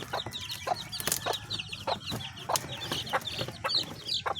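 Newly hatched chicks peeping in a close chorus of rapid, high chirps, with soft clucking and scattered small knocks underneath.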